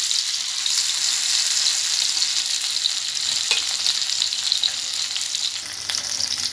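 Sankara fish frying in a pan of oil: a loud, continuous, close sizzle with a crackling, spitting texture holds steady the whole time, with no voices.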